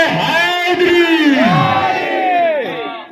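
A crowd shouts a religious slogan in unison at a Shia majlis devotional gathering, loud, close and sustained, with many voices rising and falling together before trailing off.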